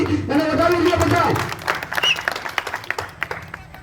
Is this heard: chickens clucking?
no